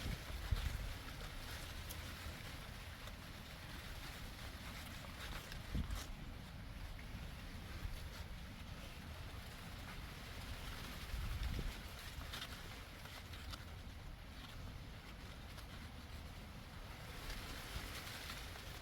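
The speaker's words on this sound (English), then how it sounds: "Here's the sound of the wind in the maize" Wind blowing steadily through a field of maize (sweet corn) on a windy summer day, a continuous broadband rustle and roar with occasional stronger gusts, fairly close and even in level.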